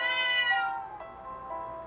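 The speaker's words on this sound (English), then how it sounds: "The cat jumps into Carrie's arms." A pet cat named Minette meows twice, a long clear high-pitched call that fades, then a shorter one, close by and alone.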